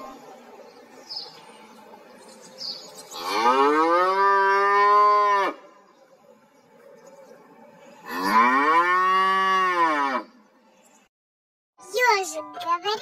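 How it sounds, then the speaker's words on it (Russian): Two long, loud cow moos, each drawn out for about two seconds with a gap between, close and clear, followed by a brief start of another call near the end. "Коровка говорит му."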